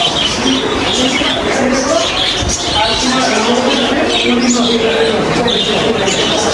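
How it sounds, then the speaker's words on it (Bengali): A dense flock of budgerigars chirps and chatters continuously at a bird competition in a village in Pangsha, Bangladesh, loud and unbroken throughout, with people talking underneath. "প্রচুর পরিমাণ পাখির ডাক"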